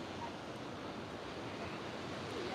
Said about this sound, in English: Good swell in the sea.